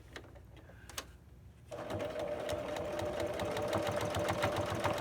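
Sewing machine running a stay stitch on an Azuki fly, starting after a quiet lead-in with a few clicks, then a steady close motor whir with rapid needle ticks.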